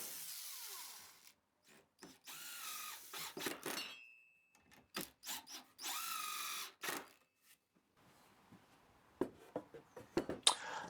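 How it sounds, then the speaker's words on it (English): A power drill driving screws into a tapered wooden table leg, several short whirring bursts of varying length with pauses between, close and loud, followed by quieter handling clatter. "drill and screw."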